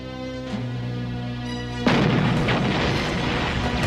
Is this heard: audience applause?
no